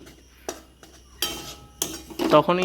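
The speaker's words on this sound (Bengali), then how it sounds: "ততক্ষণ পর্যন্ত আপনারা এটা এরকম করে নাড়াচাড়া করতেই থাকবেন প্রায়।" A utensil scrapes and clinks against a pan as besan and flour dough for peda is stirred, in a few sharp, separate knocks that build into busier scraping toward the end.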